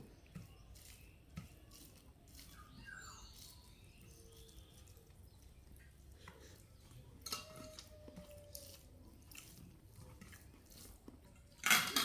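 Dishes and cutlery clink softly during a meal of rice with fish and fish curry, faint scattered scrapes and taps with a louder clatter near the end, no one talking.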